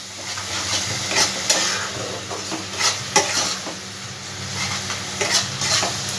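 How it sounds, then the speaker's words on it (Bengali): Onion paste and spices frying and being stirred in a pan for a Bengali shola kochu curry, a steady close sizzle with repeated scraping strokes of the spoon, with no talk. "খুব ভালো করে এবার মশলাটা আমি ভাজবো।"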